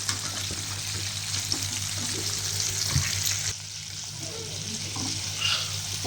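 Homemade KFC-style chicken pieces frying in a pan, a steady close hiss and crackle of oil running throughout with occasional soft scrapes and knocks as the pieces are stirred.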